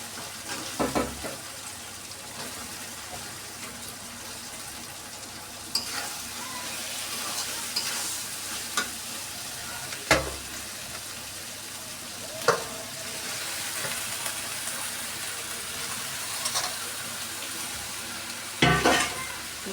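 Green jackfruit frying in spiced oil with potatoes and shrimp, a low sizzle under scattered stirring and sharp clinks of a utensil against the pan, with some water-like rustle now and then.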